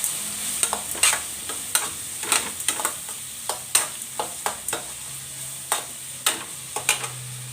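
Onions with salt and turmeric frying in a pan while being stirred: a steady sizzle runs underneath about fifteen crisp spatula scrapes and clacks at a loose, uneven pace, close-up and with no talking.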